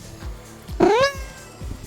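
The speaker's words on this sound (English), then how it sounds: "Can I get a meow?" A cat with no hind legs gives one clear, rising-and-falling meow up close, following soft background sounds.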